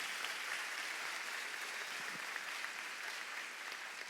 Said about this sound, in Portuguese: E, meus irmãos, uma salva de palmas.